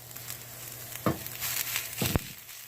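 Garlic sizzles steadily as it browns in a pan for smothered potatoes, with two brief scraping stirs about a second apart over a constant frying hiss; a low steady hum sits underneath.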